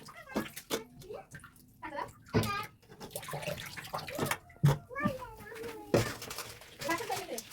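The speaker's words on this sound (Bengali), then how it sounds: "এবার 2-3 ঘন্টা ভিজতে দেওয়া ডালগুলো খুব ভালোভাবে ডলে ডলে ধুয়ে খোসাগুলো ছাড়িয়ে" Soaked black lentils are rubbed and washed by hand in water, wet sloshing and splashing in irregular bursts with clattering handfuls, while people talk nearby.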